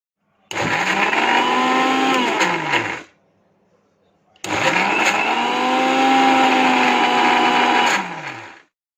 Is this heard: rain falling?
no